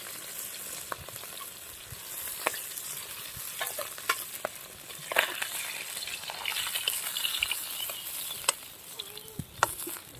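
Whole phali fish frying in hot oil in a home kitchen pan, with a continuous close sizzle, scattered crackles and the odd utensil tap throughout.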